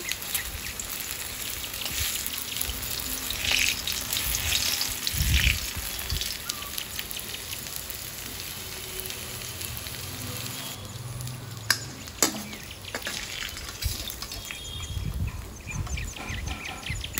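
Pakoras fry in hot oil in a home kitchen, a continuous close sizzle with scattered pops and occasional stirring clatter across the whole stretch, no one speaking.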